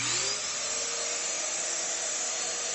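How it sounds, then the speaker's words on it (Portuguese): Vacuum cleaner running steadily in a DIY workshop, a loud, constant high-pitched whine and airy rush that holds at one level throughout, with no voices. "Vou ligar o aspirador, vai fazer um pouco de ruído."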